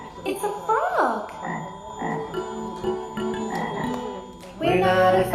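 Several loud, close frog croaks, rising and rasping, repeat irregularly over about five seconds at a school annual day show, with a dense burst of calls near the end and no talk.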